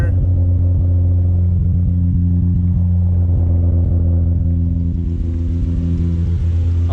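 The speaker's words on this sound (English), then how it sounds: "This car have a small exhaust leak." A car engine idling with a failing turbocharger and a small exhaust leak, heard from the rear of the vehicle: a steady, loud low rumble with a continuous drone and a faint rough pulsing throughout.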